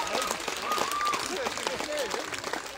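Applause from a concert audience at an open-air venue fills the clip, a steady mass of clapping heard somewhat distant, with voices and shouts mixed in.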